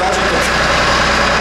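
A tractor engine running inside a church, heard as a steady, loud low rumble with an unbroken idling drone and no pauses throughout.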